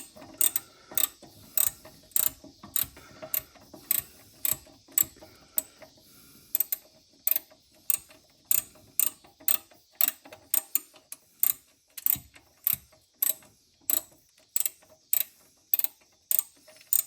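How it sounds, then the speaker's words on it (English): Old SK hand ratchet tightening the blade-belt tensioner on a Country Clipper mower: a long, even run of crisp clicking pawl strokes, each burst a quick ratcheting rattle, repeated steadily close by with no talking. "These old SK ratchets sure are nice."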